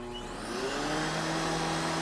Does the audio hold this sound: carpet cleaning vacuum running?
yes